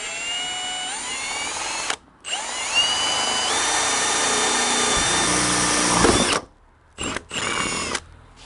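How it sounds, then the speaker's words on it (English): A power drill whines at high speed, pitch shifting as it bites through a car's metal wheel arch panel, stopping briefly then restarting in short bursts near the end. "I'm going to hold the panel and try and get the drill."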